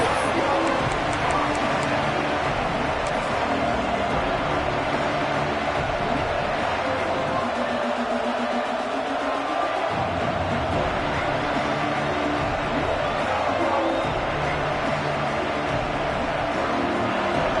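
A big football stadium crowd at a Georgia versus Notre Dame game roars as a dense, constant wash of distant cheering and babble, steady and loud for the whole stretch with a brief lull in the middle.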